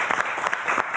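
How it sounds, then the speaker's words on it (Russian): Audience applause at a designers' day evening event in Gomel, a brief burst of steady, close clapping from a crowd. "Вы приступайте к работе, мы вас поддержим аплодисментами."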